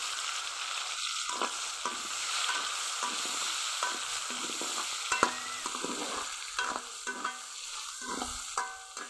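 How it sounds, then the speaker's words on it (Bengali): Onions and tomatoes frying in oil in a pan, a steady hiss of sizzling with frequent scraping and stirring clicks, close and continuous with no talk. "পেঁয়াজ আর টমেটো হালকা ভাজা ভাজা করে নিয়েছি"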